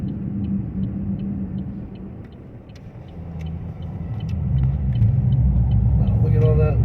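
A car drives through a snowstorm on powdery roads at night, its engine and tire rumble steady and close, swelling louder toward the end, with someone talking over it.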